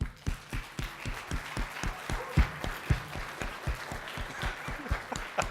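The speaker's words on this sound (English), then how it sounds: "Let's give them a round of applause." An audience at a keynote event applauds, with steady, dense, moderately loud clapping sustained for several seconds, individual claps standing out near the front.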